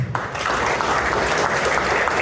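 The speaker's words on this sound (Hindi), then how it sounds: "जोरदार तालियां बजाएं" A university audience at a road safety talk breaks into loud sustained applause, many hands clapping densely right after a brief moment of quiet.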